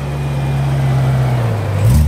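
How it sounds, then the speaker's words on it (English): Cars pulling out of a busy parking lot after a summer car meet, a steady engine hum with a low tone that dips and then swells as a vehicle moves off near the end. "Some of the cars are quickly leaving the parking space so that they can get out"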